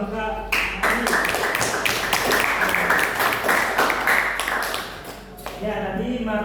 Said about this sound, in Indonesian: Tepuk tangan buat Kakak